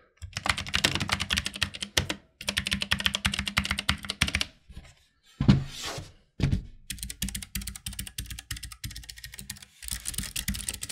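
A Keychron K3 clicky optical mechanical keyboard is typed on in quick bursts of sharp, crisp key clicks, close and distinct, with brief pauses and a few louder thunks between the runs.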